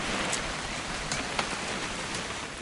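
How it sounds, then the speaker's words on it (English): Steady rain pours down in What Remains of Edith Finch, a dense continuous hiss of drops hitting surfaces, close and even throughout with no voices. "It's gonna rain the whole weekend,"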